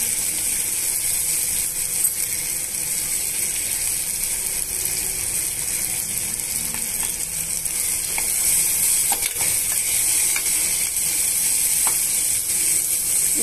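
Curry leaves crackle and sizzle in hot oil for a tempering in a pressure cooker while upma is being made. The frying hiss is loud, close and continuous, with small pops and spatters throughout and no talking.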